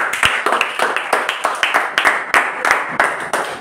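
Students in a basic maths class clap together, a dense, steady patter of many hands close by that keeps going throughout, with a few sharper slaps standing out.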